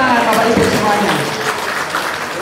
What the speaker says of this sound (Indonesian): Mohon tepuk tangan Bapak Ibu semuanya